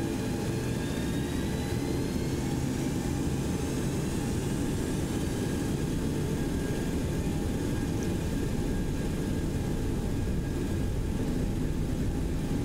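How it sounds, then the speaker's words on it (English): Steady, loud roar of a Boeing 727's turbojet engines at takeoff power in the X-Plane 11 flight simulator, a continuous dense rumble with a faint rising whine over it, unbroken throughout. "the sounds of these turbojets something to behold for sure"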